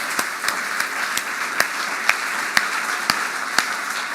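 After a political leadership debate in Inverness, the audience applauds in a steady, dense wash of clapping, with a few louder claps standing out now and then and no talk over it.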